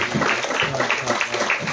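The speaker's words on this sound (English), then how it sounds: "Let's give a big round of applause." Audience applause at a health quiz event, a short burst of steady clapping heard at moderate distance.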